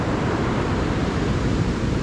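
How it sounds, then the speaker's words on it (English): Winter surf pounds a UK fishing beach in a continuous, loud broadband wash of breaking waves, with steady rushing noise and wind and no voices. "Those waves are really pounding down"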